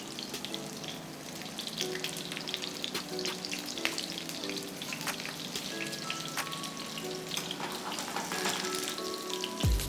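Plantains fry in oil in a pot with a steady, dense sizzle and crackle that continues for the whole stretch, close and fairly loud, with no voices.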